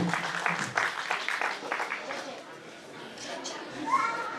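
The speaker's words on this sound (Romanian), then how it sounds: "Aplauze pentru ansamblul folclorii Bobocu." Applause at a folk and traditions festival for the Bobocu folklore ensemble, a moderate patter of many hands that thins out, with children's voices and chatter mixed in.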